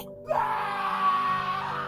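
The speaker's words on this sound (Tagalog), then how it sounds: "sumigaw siya at humingi ng tulong" A child screams for help in one long, sustained wail that starts abruptly and holds steady at moderate loudness, with no other voices.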